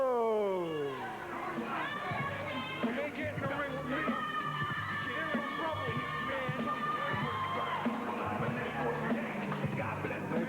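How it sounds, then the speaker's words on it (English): A wrestling crowd cheers for the winner Mr. Troubleman, Mr. Montaro, after a submission victory, a sustained roar of voices with high shouts and whoops rising and falling steadily throughout. "They're cheering the Troubleman."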